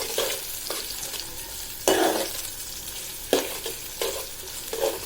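Garlic and onion fry in a pan as the base for a bottle gourd greens dish, giving a steady sizzle. Several sharp scraping stirs cut in at intervals.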